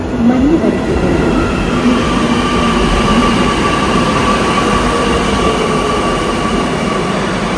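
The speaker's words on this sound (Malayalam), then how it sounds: "4 മിനിറ്റിൽ നമ്മുടെ മെട്രോ ഇവിടെ വരും." Metro train at a station platform, a loud, close, continuous rumble of wheels with a steady tonal whine and a brief rising squeal at the start.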